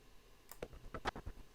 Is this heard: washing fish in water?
no